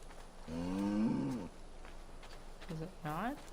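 Cattle lowing on a farm in the game Assassin's Creed Valhalla, two drawn-out moos with rising and falling pitch, the first long and loud, a shorter pair near the end.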